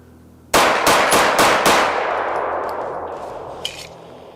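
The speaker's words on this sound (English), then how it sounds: "we're just going to shoot 5 rounds as quickly as I can just to make sure that the gun cycles properly" Five rapid, loud shots from a Springfield Prodigy handgun ring out close by in an even rhythm, and each sharp crack overlaps the ringing of the one before. The echo fades slowly after the last shot, and a faint metallic clink follows.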